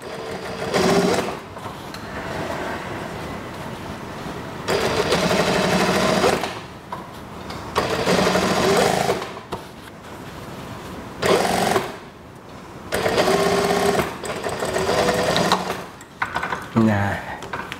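A sewing machine stitching a long elastic-waist junior high school skirt, running in loud rapid bursts of several seconds separated by brief pauses, close up.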